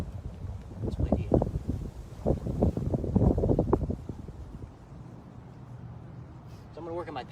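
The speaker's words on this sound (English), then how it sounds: "It's windy." Gusty wind buffets the microphone in low rumbling bursts on a golf putting green, strongest early on, then eases to a steady whoosh as a voice speaks briefly near the end.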